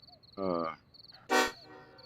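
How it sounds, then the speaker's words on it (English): A car horn gives two short honks, the second louder and brighter, close by, with a faint chirping insect-like tone in the quiet between them. "let's honk the horn"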